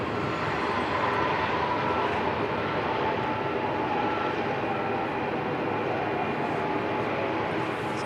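An airliner arriving at Christchurch Airport gives a steady, broad engine roar that holds at a fairly even loudness throughout, with no clear voices.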